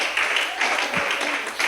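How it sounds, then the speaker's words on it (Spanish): Brief applause from a church congregation at a Sunday morning service, a steady wash of hands with a voice rising over it. "Un fuerte aplauso a Dios en esta mañana."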